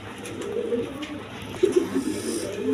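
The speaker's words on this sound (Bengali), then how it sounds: "দেখেন কবুতর খুব ভালো জাতের কবুতর" Pigeons of a fine breed coo in low, soft bursts at a breeding coop, a few throaty calls rising over steady background noise with no talk.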